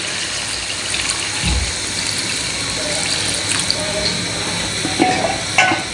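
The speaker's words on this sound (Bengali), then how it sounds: "তো এতে আমি পরিমাণ মতো পানি দিয়ে দিব।" Water is poured into a pan of frying chicken curry, giving a continuous hissing sizzle and splashing with a few clinks and stirring knocks, close and steady, with no talking.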